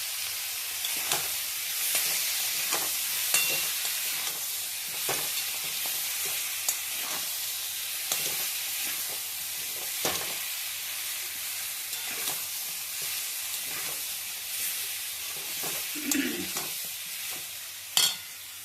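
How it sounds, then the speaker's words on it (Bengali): Drumsticks cooking with poppy seed paste in a pan, a soft continuous sizzle under repeated scraping and stirring strokes of a spatula, fairly quiet and close, with a sharper knock near the end. "পোস্ত দিয়ে নেড়ে জল দিয়ে ঢাকা দিয়ে রেখে আস্তে আস্তে কমিয়ে দেবো"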